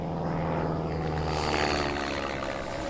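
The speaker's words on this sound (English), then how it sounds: "We could see the planes dive bombing the island." Aircraft engine drone roars steadily and loudly with propeller buzz, warplanes diving over a Pacific island during a World War II amphibious assault, a dense unbroken rumble for a few seconds.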